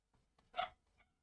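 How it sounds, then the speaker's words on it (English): A miniature schnauzer gives a short bark at people walking by, faint and distant, with a couple of quieter yips around it. "You can hear my little miniature schnauzer having a bark at everyone walking by"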